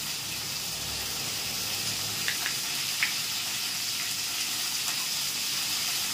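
Navratan curry, a vegetarian dish with a little turmeric, sizzles and fries steadily in a pan, a constant close hiss with a few faint clicks and no talking.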